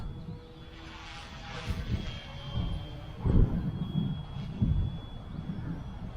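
A fast RC helicopter, an F07 with brushless motors, whines past with a steady high motor tone over a low, fluttering rotor rumble that swells and fades a little, heard outdoors at a moderate distance.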